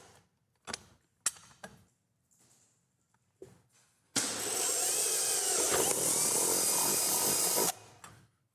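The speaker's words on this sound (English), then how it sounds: "We're going to drill a couple holes in the center." A power drill bores holes into the center of a bucket, first in a few short bursts and trigger taps, then one loud sustained whine of about three and a half seconds, close and alone with no talk.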